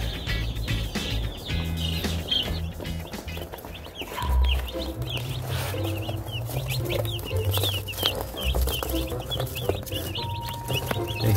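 Newly arrived Cornish Cross chicks peep in a steady chorus of high, rapid chirps, close by and constant, with a few lower clucking sounds underneath.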